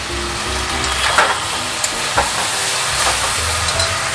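Sizzling as a paste of white mustard, black mustard and melon seeds is poured into a hot pan for a mustard-stem and mixed-vegetable chochchori: a loud, steady hiss with a few soft scrapes.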